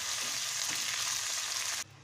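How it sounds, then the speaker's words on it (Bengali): Mustard seeds, dried chillies and curry leaves sizzle in hot oil for a chutney tempering, giving a loud, steady crackling hiss close by that cuts off abruptly near the end. "সর্ষে, শুকনো লঙ্কা আর কারি পাতা।"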